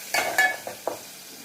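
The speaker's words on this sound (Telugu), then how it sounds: "కొంచెం సాల్ట్ వేసుకొని తిప్పుకున్నామండి." Onions frying with turmeric and salt are stirred in a pan, with a few close scraping strokes over a soft, faint sizzle.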